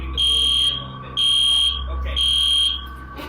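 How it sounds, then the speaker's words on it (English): Fire alarm going off in a classroom during an earthquake, three loud, piercing electronic beeps of about half a second each, evenly spaced and very close, over a low rumbling hum. "After a while, the fire alarm goes off, and the students retreat from the classroom."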